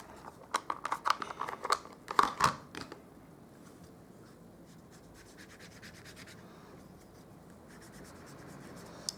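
Scissors snipping card stock for a handmade Stampin' Up card, a quick burst of close crisp cuts and rustles early on, then quiet handling noise.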